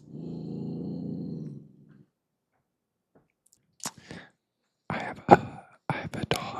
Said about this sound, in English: I have a dog, so if you hear her growling, that's what that is.